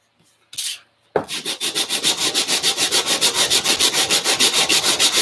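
A 3D-printed part is sanded by hand after a short scrape, giving a steady run of loud, close rasping strokes in a quick even rhythm, with no voices.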